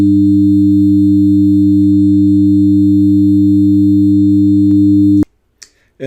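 A loud, steady synthesized tone with added second and third harmonics holds for about five seconds and then cuts off abruptly, followed by a few faint clicks.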